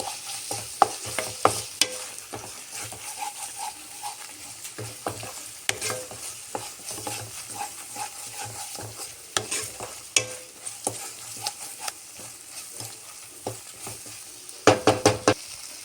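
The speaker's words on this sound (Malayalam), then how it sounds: "നമുക്ക് മുട്ടയും കൂടെ ചേർത്ത് നല്ല പോലെ ഒന്ന് ഇളക്കിയെടുക്കാം" Egg being stirred into a frying pan of Indian-style pasta, spatula scrapes and knocks against the pan over a soft sizzle, irregular strokes with a cluster of sharper hits near the end.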